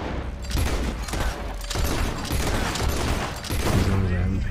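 In Red Dead Redemption 2, a rapid burst of gunshots blends into a dense, noisy din. Several sharp cracks sit over the clatter over a few seconds, heard up close.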